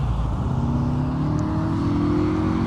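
A car engine at a farm shop car meet drones steadily, its pitch rising slowly as the revs climb, loud and continuous with no talking.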